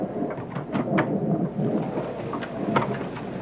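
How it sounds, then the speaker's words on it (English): Thunderstorm from a 1967 Dark Shadows episode: a steady, moderately loud wash of rain and wind with low rumbling and intermittent crackling bursts, no voices. "I believe the storm has already started"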